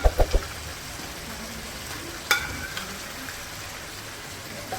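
Sliced onions frying in a pan, a steady crackling sizzle like light rain, with a few sharp knocks at the start and a clink midway, close and moderately loud.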